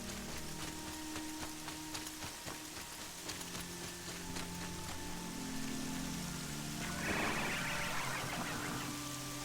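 Steady rain pours in the video game Horizon, a dense, even hiss of drops on surfaces that swells slightly toward the end, with no voices.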